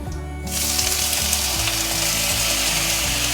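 Tofu and shimeji mushrooms frying in a pan for a Thai-style turmeric and lemongrass stir-fry, a loud, dense sizzle erupting suddenly and holding steady, with faint scraping beneath and no voices.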